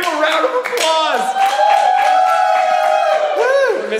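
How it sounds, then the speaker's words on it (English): Crowd at a live magic performance claps steadily and loudly while a voice shouts and talks over the applause throughout. "give a round of applause"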